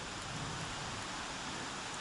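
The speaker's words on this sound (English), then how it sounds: "It's been drizzling on us a little bit." Light drizzle falling over a wet forest campsite, a steady soft hiss of rain with no distinct drops or other sounds, faint and continuous throughout.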